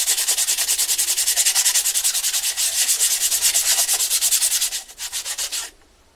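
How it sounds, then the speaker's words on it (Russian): Electric motorcycle brake pad rubbed back and forth on sandpaper laid on a flat surface, a loud, steady rapid rasping rhythm of many strokes that slows and stops near the end. "Берем наждачную бумагу. И теперь нам надо ровная поверхность и просто притереть эту колодку."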